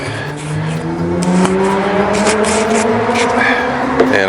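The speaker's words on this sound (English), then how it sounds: "we got, you know, sport bikes running up the mountain" Sport motorcycles running up a mountain road, engines revving and rising in pitch as they pass close by, loud and continuous for a few seconds.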